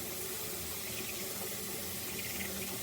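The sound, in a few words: water running from a tap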